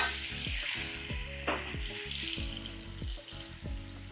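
Shrimp sizzling in hot oil, cooked as a topping for pancit palabok, with a steady close frying hiss broken by repeated pops and crackles and a loud burst partway through.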